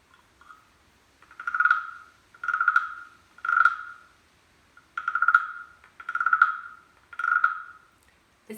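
A carved wooden frog from Thailand is rubbed with a stick, giving six rhythmic ratcheting croaks, close and clear, with short pauses between strokes and no talking.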